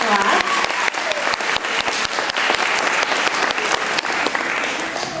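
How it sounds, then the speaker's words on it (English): Audience applause at a school concert and ceremony in Virginia, a dense steady round of clapping from a crowd of students and families lasting several seconds, with a brief voice at the start. "let's give one more round of applause for the fellow class."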